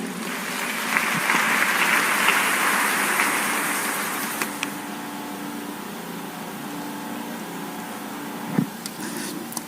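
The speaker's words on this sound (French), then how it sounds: "Acclamons la parole." A church congregation applauding, a broad steady clatter of clapping that swells loud in the first half, then thins and fades to a softer patter with a few isolated claps near the end.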